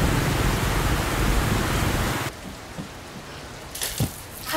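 Heavy rain pours steadily as a loud hiss, then drops away to a softer patter with a few nearby drips and thuds.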